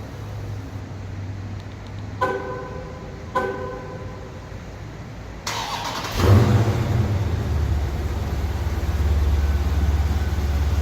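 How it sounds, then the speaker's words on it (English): Dodge Challenger SRT 392 engine idling, then starting up and revving into a steady, loud, close rumble, with two short sharp clicks or tones before it. "we're going to take the SRT 392 Challenger"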